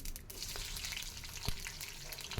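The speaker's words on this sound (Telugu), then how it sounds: "సైడ్ కడాయి పెట్టుకొని అందులో ఆయిల్ వేసి ఆయిల్ హీట్ అయిన తర్వాత ఆవాలు వేయండి" Mustard seeds drop into hot oil in a kadai, a soft crackling sizzle with a few small pops and ticks, close and fairly quiet, with no talking.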